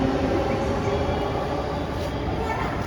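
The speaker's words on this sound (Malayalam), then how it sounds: "അപ്പോൾ ഇത് ഒലിവറിൻ്റെ ഫസ്റ്റ് മെട്രോ." A Bangalore metro train gives a steady, close rumble with constant broadband rail noise throughout, no distinct events standing out and no clear talk over it.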